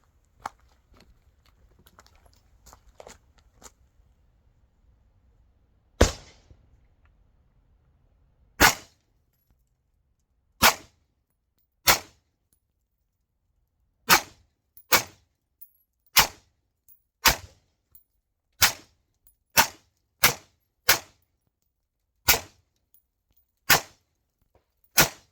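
Single gunshots from a Taurus TX22 .22 rifle at an outdoor range, about fifteen sharp cracks spaced a second or two apart and growing quicker toward the end, with quiet between shots.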